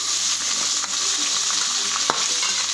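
Onion and garlic sizzle in a pan with red Byadgi chillies for a bitter gourd gravy, a dense, steady hiss with occasional light stirring clicks.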